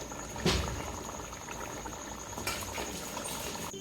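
Curry bubbles faintly under the lid of a covered pot, a soft, steady simmer broken by a few light clicks.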